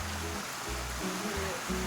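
A waterfall in a video game map gives off a continuous rushing wash of water. Low, rhythmic tonal pulses repeat beneath it, and no voices are heard.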